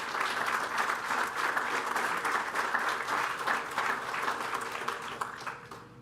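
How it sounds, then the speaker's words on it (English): A ceremonial audience at a groundbreaking event bursts into sustained applause for students, dense clapping holding steady for several seconds before beginning to taper off at the end. "Let's give our students a round of applause."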